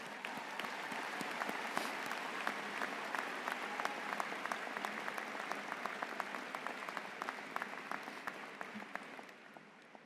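Commencement audience at a 2014 UMass Lowell afternoon ceremony applauding parents and families: sustained, dense clapping from a large crowd, moderately distant and steady for the full stretch, tapering slightly near the end.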